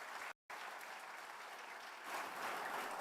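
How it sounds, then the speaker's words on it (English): Sustained applause from a conference audience at an education event, dense steady clapping with a brief cut near the start, swelling slightly louder toward the end, no voices over it. "a loud round of applause, but we definitely have that going"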